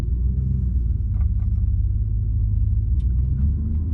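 Steady deep engine rumble from inside a moving Audi RS4 with a rear-mounted turbo in loud exhaust mode, a constant low drone with a few faint clicks and ticks over it.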